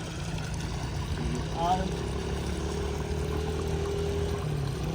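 Water pours steadily across a farm field, a continuous close rushing sound with a low hum beneath it and a brief voice partway through.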